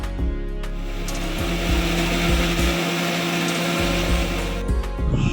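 A mixer grinder blends flour, potato, one egg and water into onion dosa batter with a loud, steady close-up motor whir that runs without a break.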